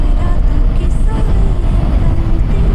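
KTM 390 Duke motorcycle being ridden on the road, a steady, loud low-frequency engine drone with wind rumble throughout, continuous and close.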